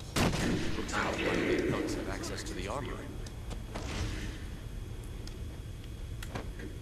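Sniper rifle shots crack in a Batman video game, a few sharp reports heard at some distance with faint ticking in between. Someone talks over them.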